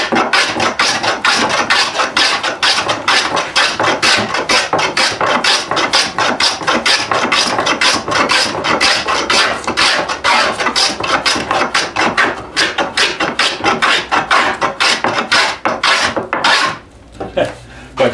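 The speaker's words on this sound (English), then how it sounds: "carry on planing in the same direction I was going and get this piece done" Hand plane shaving a wooden seat blank in fast, rhythmic rasping strokes, dozens of close, loud scrapes one after another, ending with a brief pause and a knock.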